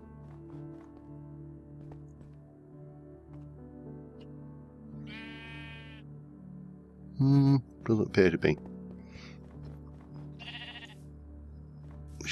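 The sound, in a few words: sheep bleating in the video game Minecraft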